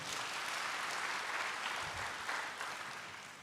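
A church congregation claps for God after a sermon, a dense, even wash of applause that holds steady and fades slightly toward the end.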